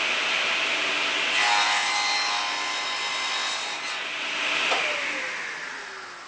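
A table saw cuts a taper on a wooden hammer, giving a loud, continuous blade whine and rasp close by that swells, eases, then swells again before trailing off.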